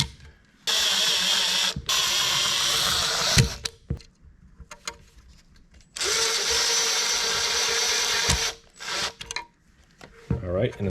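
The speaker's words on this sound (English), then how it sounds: "you can go ahead and start, I'd say loosely screw them in" Power screwdriver driving screws into 3D printed plastic LED light brackets, with several loud sustained whirring runs broken by pauses, clicks and handling noises, close up.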